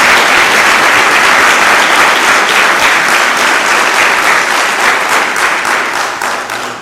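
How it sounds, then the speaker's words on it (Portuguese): A church congregation applauds in a loud, dense wave of clapping that holds steady and then eases slightly toward the end. "Dê uma salva de palmas a Jesus."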